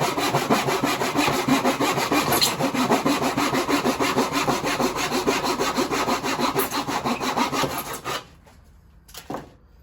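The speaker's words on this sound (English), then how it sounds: "Get the miter saw back." Miter saw slicing through wood for a cigar box guitar: a loud, continuous rasping cut with rhythmic blade texture lasting about eight seconds, then it stops abruptly, leaving near silence with a brief faint knock.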